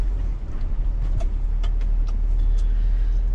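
A car pulls away with a steady low engine rumble and road noise, plus a few faint clicks and squeaks over the drone.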